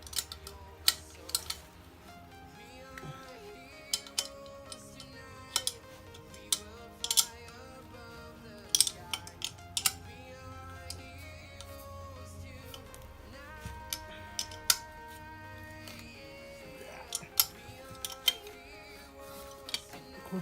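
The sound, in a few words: wrench tightening turbo manifold bolts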